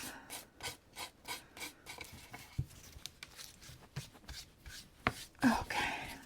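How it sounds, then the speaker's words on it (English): Hand sanding of a kitchen craft piece made with a Cricut, heard as rhythmic rasping back-and-forth strokes close by, uneven in pace with a few louder scrapes and knocks near the end, no talking. "So you just continue to sand it off."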